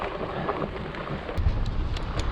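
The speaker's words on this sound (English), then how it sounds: "It's windy again today." Wind gusting on a canyon trail buffets the microphone in low, rumbling bursts, strongest near the middle, with brief rustling noises on top and no one speaking.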